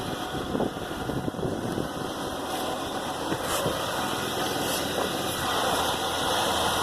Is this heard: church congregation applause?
no